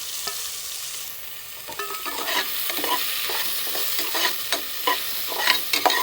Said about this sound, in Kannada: ಇದಕ್ಕೆ ಈಗ ನೀರುಳ್ಳಿ ಸ್ವಲ್ಪ ಕೆಂಪಗೆ ಆಗೋ ತನಕ ನಾವು ಫ್ರೈ ಮಾಡ್ಕೊಳ್ಬೇಕು.